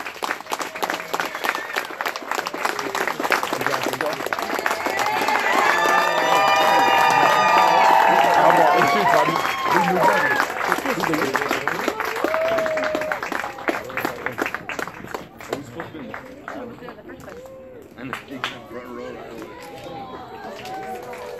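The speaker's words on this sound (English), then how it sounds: "Will we give them a big round of applause as they're exiting together?" Wedding guests applaud and cheer as the newly married couple exits together, a dense, loud wave of clapping swelling mid-clip then thinning out, with voices and chatter mixed throughout.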